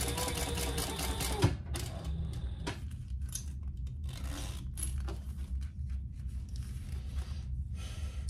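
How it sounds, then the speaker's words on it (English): A sewing machine top stitches a jelly vinyl toiletry bag, producing a steady close mechanical whir with a brief pause early on before it runs on evenly. "So it's just doing a top stitch."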